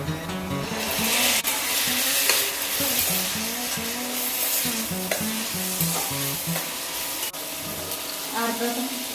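Tomatoes stirred into browned onions in a frying pan for a Maharashtrian dry vegetable dish, a steady loud sizzle with repeated scraping stir strokes throughout, with faint voice-like tones underneath.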